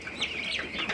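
Twenty-day-old Bronze 708 turkey poults peep continuously in a brooder, a dense overlapping chorus of high, thin chirps heard close, with no talk.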